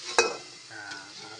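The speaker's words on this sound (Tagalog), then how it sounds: "Ang ating sibuyas bawang, gisa-gisa lang muna." Onion and garlic sauté in a hot pan with a bright, even sizzle, opened by a single sharp utensil clank before the hiss settles down.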